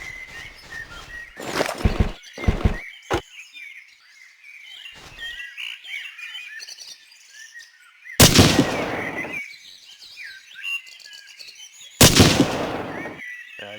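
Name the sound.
grenade explosion in the video game Hidden & Dangerous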